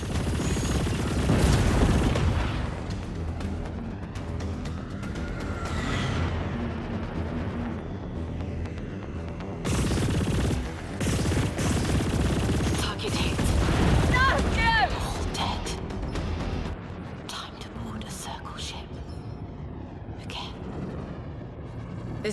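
Spaceship battle in the video game Chorus, with heavy booming blasts, rapid weapon fire and explosions in loud bursts broken by brief lulls, mixed with talking voices.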